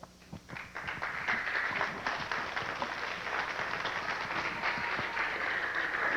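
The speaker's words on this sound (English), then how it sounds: "Let's give him another round of applause." Rally audience bursting into sustained applause, a dense, steady wash of clapping that builds after a brief start and continues evenly, fairly distant and crowd-wide.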